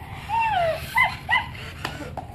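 A dog gives high, wavering whimpers and yips close by, a few drawn-out whines followed by short cries and a sharp bark-like burst.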